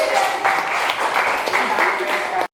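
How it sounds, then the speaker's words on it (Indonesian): Students in a classroom clap briefly after a discussion, with a short, lively patter of hands and voices audible beneath it before it cuts off. "luar biasa, tepuk tangan"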